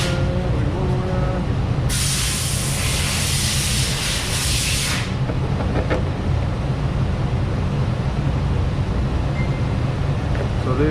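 Aerosol adhesive remover sprayed onto a car emblem in one steady hissing burst of about three seconds, close and loud over a low background rumble.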